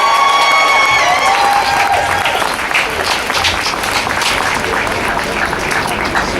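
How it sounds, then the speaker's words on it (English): A crowd at an anti-Trident protest rally in Scotland claps and cheers to welcome activist Sasha Callahan, Disability History Scotland; dense steady applause with whoops and a few whistles, loud and sustained throughout. "Our next speaker, I want you to give her a big cheer."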